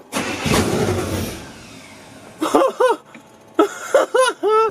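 A rebuilt 350 V8 in a tow rig, fed only by fuel poured into the throttle body, turns over and catches in short bursts: loud rough cranking, then several brief sputtering firings with pauses between.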